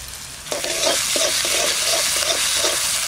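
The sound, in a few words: onion frying and being stirred with ginger-garlic paste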